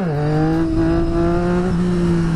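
Motorbike riding on the road, a loud steady engine drone that holds a constant pitch, dips briefly near the start, then settles, close and continuous with wind noise.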